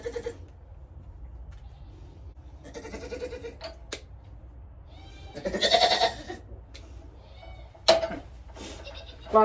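Goats bleat in a pen as a new goat is introduced, several loud wavering calls from close by, spaced apart over quiet farmyard background with rustling and a few thumps.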